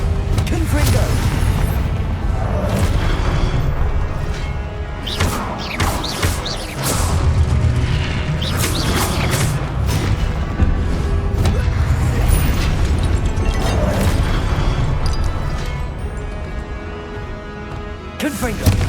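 Confringo spells in the game Hogwarts Legacy set off repeated booming explosions and crashes over a loud, continuous battle din, with other spell effects and voices mixed in.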